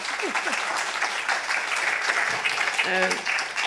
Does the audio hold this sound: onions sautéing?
no